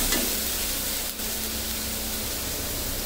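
Loud continuous sizzling of chili powder hitting hot oil in a pan of spicy loitta fish bhuna, a steady hiss with a faint stir near the start.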